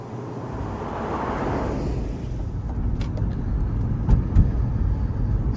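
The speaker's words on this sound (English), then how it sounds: "This is my 2021 C8 Corvette. Let's take a drive and talk about first year of ownership." A 2021 Chevrolet C8 Corvette hardtop convertible in 1LT trim is driven, giving a steady engine and road drone heard from inside the car that swells slightly with a few brief knocks and no talk.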